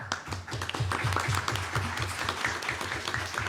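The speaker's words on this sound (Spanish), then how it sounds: "Entonces vamos a terminar, bueno, con unas palmas" Scattered hands clap at a fantasy fiction literary congress, a brisk, fairly sparse patter of individual claps heard fairly close, with faint murmuring voices beneath.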